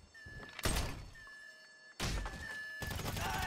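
A door bursts open in a Grand Theft Auto bureau raid, giving a loud thunk and crash at about the half-second mark and a second heavy impact near two seconds, with hollow rumble between them and no talk.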